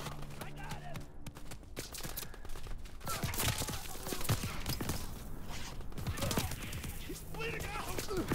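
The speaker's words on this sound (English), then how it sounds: "Mortar shot out, sweeping the zone." A mortar strike score streak lands in Call of Duty WWII, a busy spread of overlapping explosive booms and crackling gunfire under game voice chatter. The impacts build in density toward the middle and end.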